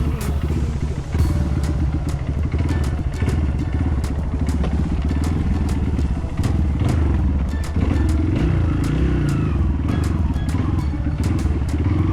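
Motorcycle being shifted during a forest expedition in a Pahang forest reserve, giving loud continuous low rumbling with repeated clattering, scraping and thumping knocks, close by and with no clear talk.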